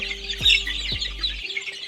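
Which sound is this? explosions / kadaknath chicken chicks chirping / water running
kadaknath chicken chicks chirping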